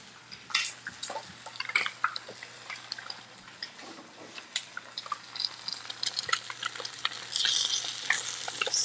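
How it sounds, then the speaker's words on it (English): Food sizzles in a heated frying pan while being stirred, a steady crackling fry broken by scraping and clinking utensil strokes, close and moderately quiet, with no talking. "Sizzling, sizzling."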